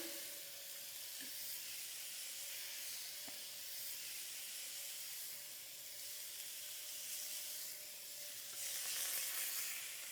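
Spicy shrimp sizzle on a grill pan in a steady, moderate hiss with faint crackles, a low continuous tone running beneath, and no talk.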